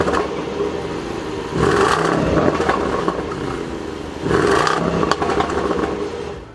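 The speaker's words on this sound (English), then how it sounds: "I'm sure everyone here wants to know what this supercharged 5-liter V8 sounds like" A warm 2021 Range Rover Sport SVR with a supercharged 5-liter V8 idles, then gets two sharp throttle blips a few seconds apart. Each rev rises to a loud roar before dropping back to a steady idle.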